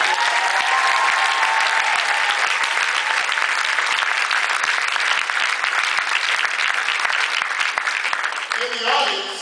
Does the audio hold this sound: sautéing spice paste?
no